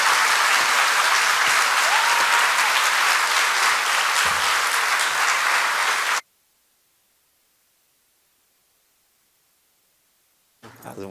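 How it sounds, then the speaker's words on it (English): A large audience at a Tennessee Arts Academy event applauds loudly and steadily for about six seconds to welcome the artist Chaz Guest, then the room falls silent. A brief burst of sound returns at the very end. "Let's give him a big round of applause and welcome him to the Tennessee Art."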